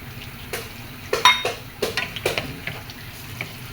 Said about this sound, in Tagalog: Ilagay na natin ang ating laurel at saka bawang.